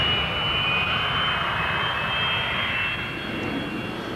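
RAF Jet Provost jet trainer flying at the International Air Tattoo at RAF Fairford, a steady, loud jet roar with a high whine running through it, sustained throughout.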